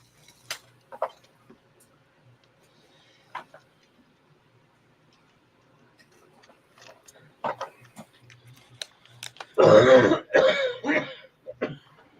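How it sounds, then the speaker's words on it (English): A man coughs hard in a rough burst after scattered quiet clicks and faint throat sounds, followed by a few more coughs. "coughing up a lung over there."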